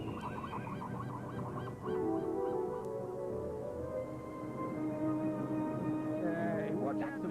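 Cartoon birds honk like geese in repeated nasal calls, a chattering flock heard moderately close, with voices talking over them from time to time.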